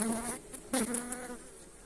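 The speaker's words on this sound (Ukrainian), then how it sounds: "Бачимо, є бджоли." Honey bees buzz close by at a hive in a soft, continuous drone with a few louder passes, no voices present.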